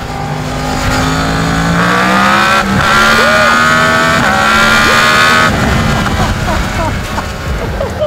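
A Yamaha MT-10 motorcycle accelerates hard, its loud, close engine note climbing in pitch through the gears with a throaty, continuous roar.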